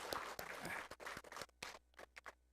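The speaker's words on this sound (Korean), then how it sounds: "박수해 주시기 바랍니다." Church congregation clapping during a Sunday service, a short burst of applause that thins into scattered individual claps before fading.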